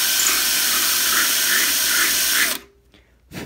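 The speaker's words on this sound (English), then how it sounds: "See, I'm pushing to the left as the drill is moving." A power drill whirs continuously while enlarging holes in a Technics turntable dust cover hinge bracket, a steady high buzzing whine that cuts off abruptly, followed by a brief short burst near the end.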